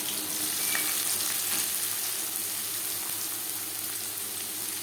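Chopped onion fries in hot refined oil in a wok, giving a steady, close hissing sizzle that holds evenly without talk.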